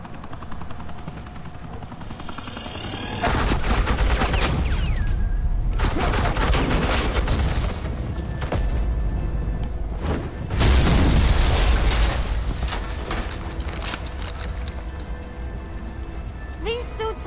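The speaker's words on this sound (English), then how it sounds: "Suppressing fire." Gunfire in Batman: The Enemy Within comes as loud, sustained volleys of shots mixed with a helicopter and heavy action noise, alongside spoken dialogue.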